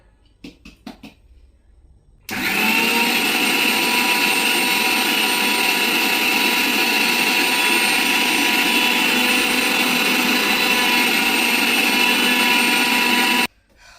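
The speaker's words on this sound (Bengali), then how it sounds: "থেমে থেমে ব্লেন্ডার করতে হবে।" After a few quiet clicks and handling noises, an electric blender grinding spices starts suddenly and runs as a loud, steady whir for about eleven seconds, then stops.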